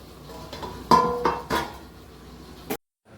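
Fried gulab jamun being lifted out and set onto a metal plate, giving a few sharp clinks and clatters of metal spaced about half a second apart, close and fairly loud, with no talking.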